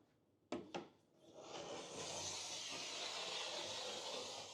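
Two sharp knocks, then a steady hissing rasp as a fine file is drawn along a snowboard's steel edge, close by and fairly quiet.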